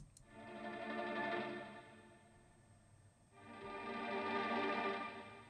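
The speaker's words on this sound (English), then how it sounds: "so I added in this kind of like tremolo string pad thing." A quiet, subtle tremolo string pad in a hip-hop beat swells up, dips and swells again as two long sustained chords, with no other parts playing.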